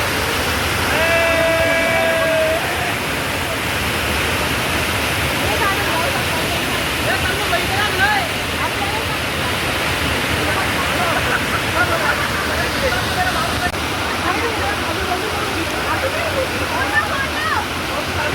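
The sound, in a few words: Bhavli waterfall in monsoon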